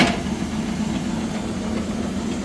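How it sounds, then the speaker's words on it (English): Hollymatic 180-A mixer grinder engaging its grinding auger via the clutch, a steady low mechanical hum and drone after a brief clunk at the start, near and moderately loud. "And then this unit uses a clutch, and that clutch will engage the grinding."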